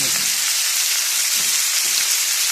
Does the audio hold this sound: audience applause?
no